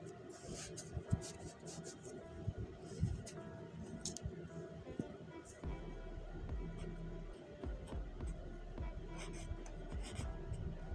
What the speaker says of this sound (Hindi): तो अब हम यहाँ लिखेंगे बिलाल्स जर्नल